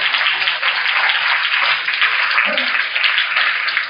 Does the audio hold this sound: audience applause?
yes